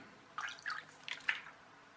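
Vinegar poured from a bottle into a container of water for a baking powder and baking soda test, a short burst of gentle splashing and dripping trickles, close and quiet, with no talk.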